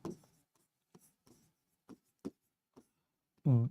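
Marker or chalk strokes on a classroom board during a botany lesson, a series of short separate scratches with pauses between them, followed by a brief loud voiced sound at the end.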